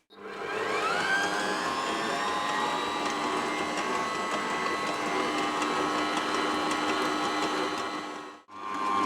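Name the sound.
stand mixer with dough hook mixing hot cross bun dough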